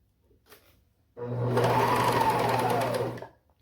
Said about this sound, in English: I like to place it under the foot just so that I know it's not going to shift anywhere, and just sew it.